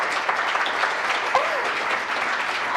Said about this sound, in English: they should deserve a clap